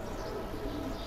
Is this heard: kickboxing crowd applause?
no